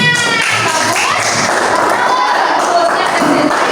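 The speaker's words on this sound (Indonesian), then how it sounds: "Tepuk tangan." Children clapping together in a school classroom, loud fast rhythmic claps and thumps under a busy wash of chatter and voices.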